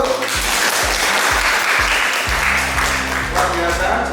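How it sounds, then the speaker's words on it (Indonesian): Classroom audience applause for a student group: a wash of clapping over a steady low tonal hum that repeats in a pattern, with faint voices mixed in. "Beri tepuk tangan buat kelompok 1."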